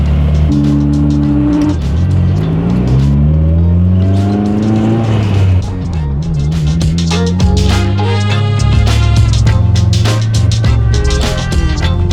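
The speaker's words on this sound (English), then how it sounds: "It's just the car running without any circulation, essentially." A Mitsubishi Lancer Evo 8 engine roars loudly up close with rising and falling revs and gear changes while driving, strong and continuous throughout.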